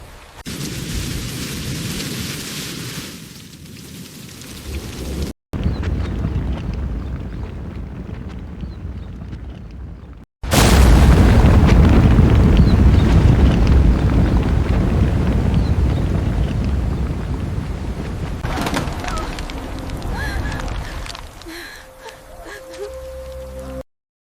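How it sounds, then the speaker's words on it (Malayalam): Strong wind during a flood in Wayanad, roaring gusts that buffet the microphone in loud, broad bursts, broken by two abrupt cutouts, with a heavier surge in the middle and a faint rumble toward the end. "കാറ്റ് വളരെ കൂടുതലാണ്."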